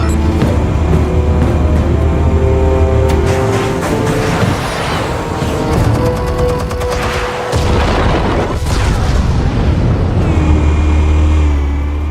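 Explosives fired in the Batman Telltale Series game set off loud, sustained booming blasts with rumbling low end and crackling debris, dense and continuous throughout, with no talking.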